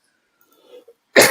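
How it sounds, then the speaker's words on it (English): A single short, harsh cough from a person with a lingering cough, loud and close, bursting out at the end after near silence and a faint murmur. "I've got a lingering cough"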